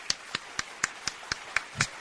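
A single person claps slowly and evenly in a radio studio, eight sharp, close hand claps spaced about a quarter second apart with near-silence between them.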